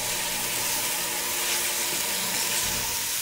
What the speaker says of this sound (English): So we're going to stir it up with those onions.